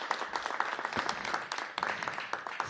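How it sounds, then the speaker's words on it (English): An audience at a police academy launch event at Anacostia High School in Washington, D.C. breaks into applause, a dense, steady patter of many hands clapping that carries through the whole stretch. "Give them a round of applause."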